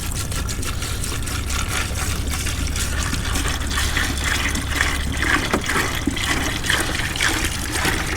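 Water pours steadily into an Ozark Trail cooler, a continuous splashing, gurgling fill sound close by that stays even throughout, with no talk.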